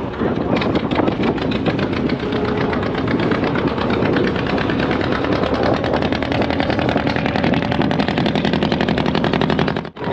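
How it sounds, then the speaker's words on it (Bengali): Passenger boat engine pulling away from Sandeshkhali ghat on a Sundarbans river, a loud, steady, close chugging drone that runs unbroken for about ten seconds before cutting off abruptly at the end. "সন্দেশখালি ঘাট থেকে কিন্তু আমাদের বোট ছেড়ে দিল।"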